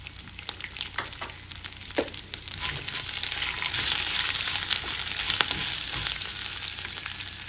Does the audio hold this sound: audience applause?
no